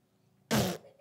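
A child on stage blows a single loud, buzzy fart imitation lasting about a quarter second, preceded by a faint murmur.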